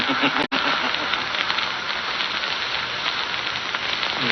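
Live steam hisses as a sound effect in an old Sherlock Holmes radio drama: a loud, steady, broadband rush that starts abruptly after a brief break and continues unbroken, with no voices over it.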